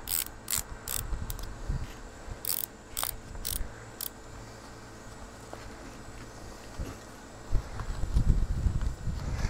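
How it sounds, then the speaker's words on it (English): A BOA dial on a Silca seat roll ratchets as it is tightened, giving a string of crisp, rapid clicks over the first few seconds, followed by quieter handling and rustling. "Pop the boa dial in so you can tighten it."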